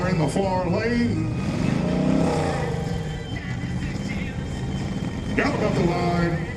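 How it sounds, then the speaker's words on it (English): Vintage race car at The Race of The Gentlemen 2022 drives past in the far lane, its engine droning and rising in pitch under a loud announcer's voice. "Team car in the far lane."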